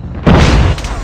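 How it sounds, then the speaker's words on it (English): A single loud, close grenade explosion in Call of Duty Mobile, a deep booming burst that swells and then rumbles away over about a second. "Grenade, run!"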